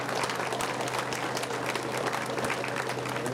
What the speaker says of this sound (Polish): A państwo oklaskujecie, oto zwycięzca ostatniego etapu.